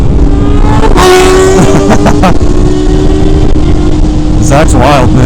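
A Kawasaki ZX14R sport motorcycle fitted with an aftermarket exhaust roars loudly and close on rolling Kentucky farmland, the engine droning hard with sharp rev bursts near the start and end while voices talk over it.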